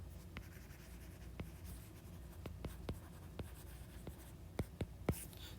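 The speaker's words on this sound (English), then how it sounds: "Let me write this up here." A lecturer writes on the board during a physics lecture on energy, producing a series of sharp, quiet taps and short strokes at an uneven pace in a hushed room.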